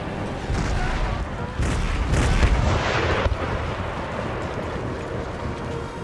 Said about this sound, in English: Just keep firing round shot.